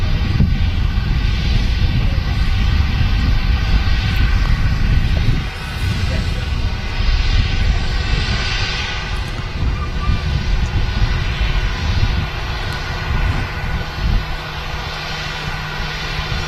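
A loud, continuous roar from the engines of an Airbus A320 airliner of a Ryanair subsidiary moving at Manchester Airport, close by and steady, with a voice talking over it.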